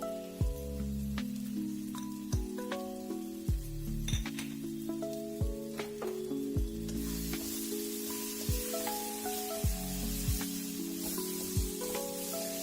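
Chicken masala cooking in a pan with cumin, coriander and chilli powder, a continuous soft sizzle broken by repeated scraping and clinking of a spoon stirring the spices, close and steady throughout.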